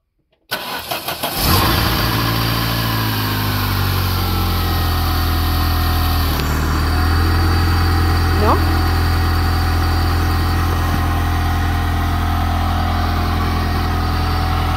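A Shelby Dayton engine, just retimed, cranks and catches, then runs steadily at a loud, close, even idle with a constant mechanical drone and a slight change in tone midway, while people talk over it.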